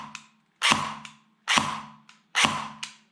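A J11 AK47 airsoft gearbox fires three single shots, each a sharp, close snapping crack with a short mechanical rattle, spaced under a second apart with no talk.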